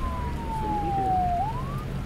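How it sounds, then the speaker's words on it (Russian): A police car siren with flashing lights wails steadily and loudly in the foreground, one long tone gliding slowly down then rising again over a constant hum of street noise. "Это типа машина с мигалкой, как у нас Мерседес с мигалкой"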